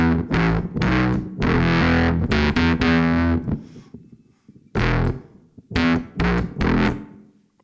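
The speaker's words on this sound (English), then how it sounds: "now when I add my fuzz to that" An electric guitar runs through a fuzz effect on a BOSS GT1000 processor, loud, thick distorted chords and notes played in choppy bursts with short gaps and sustained ringing.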